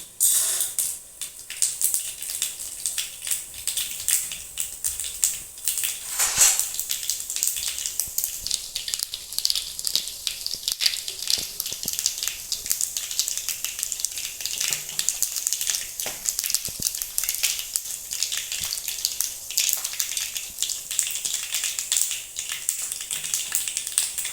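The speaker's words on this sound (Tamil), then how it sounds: "எண்ணெய் அடுப்பில் ஊற்றி கடுகு உளுத்தம்பருப்பு போட்டுக்குவோம், கடலைப்பருப்பு போட்டுக்குவோம்" Mustard seeds, urad dal and chana dal sizzling in hot oil for a spicy hotel-style chutney, a dense continuous hiss with fine crackles throughout.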